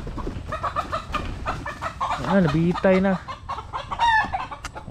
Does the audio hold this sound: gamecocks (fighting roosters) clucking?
yes